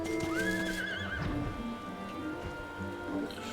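A horse in the Final Fantasy XIV game world gives a loud, rising whinny near the start, followed by hoof clip-clops and soft ambient game sounds; a voice is also faintly present.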